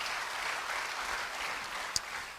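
Congregation applause during a church service, a dense wash of clapping from a crowd, steady and moderately distant, with one sharper clap standing out near the end.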